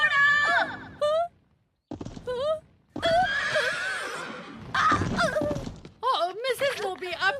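A stubborn horse neighs and whinnies in repeated loud, close bursts, with short pauses between calls and a few thuds in the background.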